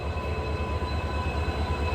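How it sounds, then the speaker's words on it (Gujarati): A passenger train's railway cars rumble steadily in a low, continuous drone while being coupled, with no distinct impacts standing out. "કપલિંગ કરે કપલિંગ."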